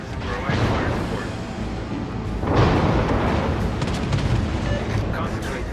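Naval gunfire from the USS Kidd destroyer in a naval battle video game, a loud continuous barrage of booming blasts that swells sharply midway, with game voice lines over the top.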